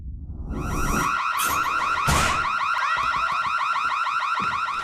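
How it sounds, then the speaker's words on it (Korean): A loud fire alarm blares continuously, its pitch rapidly warbling up and down in a repeating siren pattern, close and piercing for the whole clip, in a horror film scene. "요란스런 화재 경보기가 울리기 시작합니다"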